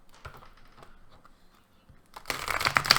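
Tarot cards rustle and flick softly at first, then a louder, dense riffling burst of shuffling follows near the end, close up and without talk.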